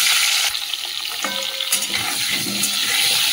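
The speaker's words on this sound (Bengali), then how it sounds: "তেলের মধ্যে নুন হলুদ দিয়ে দিচ্ছি, এই যে আলুগুলো দিয়ে দিচ্ছি।" Potatoes hit hot oil seasoned with salt and turmeric, giving a loud, steady broadband sizzle with occasional stirring clatter throughout.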